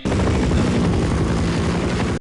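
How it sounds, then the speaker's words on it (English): A helicopter in the video game Half-Life gives a loud, steady rotor and engine roar that holds without a break, dense and close throughout. "I bet it's another helicopter."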